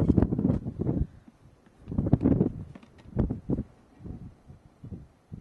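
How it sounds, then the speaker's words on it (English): Gusts of wind buffet the microphone outdoors during a camping stove demonstration, irregular low rumbling bursts that swell and fade over a few seconds. "I hope you guys can hear me because it's kind of windy out."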